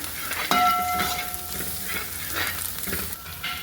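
A spoon scrapes and stirs spices, salt, coriander powder and chilli powder, through an oily mixture sizzling in a pan, close and steady, with a brief high metallic ring near the start.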